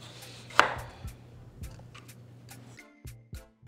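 A knife chopping Fresno chilies and bell peppers on a cutting board, a few separate close thuds spread unevenly, with a sharper cut near the start and a quick pair of taps at the end.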